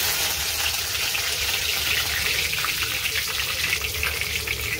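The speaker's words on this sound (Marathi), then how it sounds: "तेल गरम झालेले आहे, त्यात थोडीशी मोहरी" Mustard seeds, coriander and spices frying in hot cooking oil for a gram-flour vada curry, giving a steady, dense crackling sizzle that runs loud and unbroken throughout.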